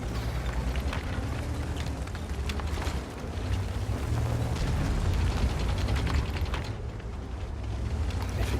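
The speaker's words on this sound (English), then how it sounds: "So they're exchanging fire here, but no one's actually connecting at this point." Tank cannon fire traded in a tank combat video game, a dense continuous rumble of engine and battle noise with repeated booming shots and bursts blending together throughout.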